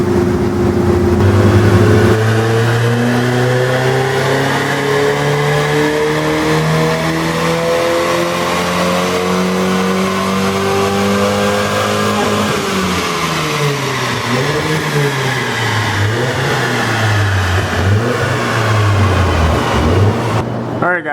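A stock Volvo B230F four-cylinder with stock ECU and cam, in a car with an M47 gearbox and 4.10 rear end, roars loudly on a dyno, its pitch climbing steadily through the gears, briefly dropping and rising again near the end.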